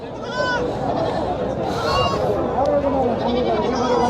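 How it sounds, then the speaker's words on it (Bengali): Several goats bleat amid a busy crowd at a large livestock market on the Brahmaputra bank in Sherpur, wavering cries rising over the steady murmur of voices. "আর যেখানেও দেখতে পাচ্ছেন অনেক ছাগল কিন্তু নিয়ে আসা হয়েছে।"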